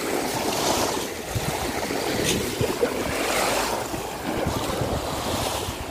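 High-tide sea waves break and wash along a beach at Plaridel, Quezon, a steady loud roar of surf with wind buffeting the microphone throughout and no voices.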